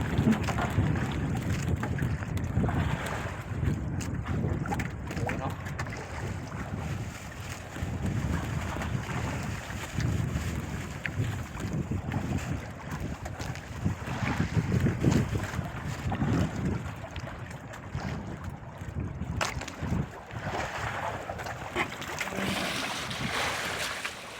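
Strong wind gusts buffet the microphone continuously on a fishing boat at sea, with a low roaring rumble, boat engine and water sloshing underneath; no talking.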